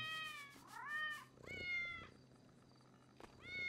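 A cat in a GTA 5 roleplay session meows several times, drawn-out rising and falling calls separated by short pauses, close and fairly quiet over a low background hum.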